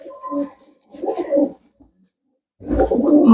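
Pigeons coo nearby in three soft, throaty bursts separated by short pauses.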